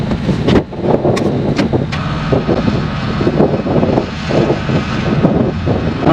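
A truck engine roars and labors on a snowy Ozark mountain driveway, revving hard in uneven surges with crunching and spinning noise as the truck tries to climb out of a rut.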